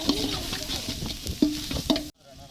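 Onion and cassava fry in a pan, a steady close sizzle broken by several sharp stirring scrapes before the sound abruptly cuts off.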